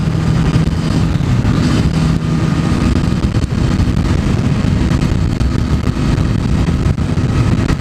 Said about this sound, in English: I think I'll try to keep it a little slower on the highway to keep the wind noise down a little bit.